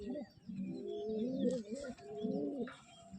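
Male pigeon standing and cooing near the mic in repeated rolling, throaty phrases, with faint chirps from other birds behind.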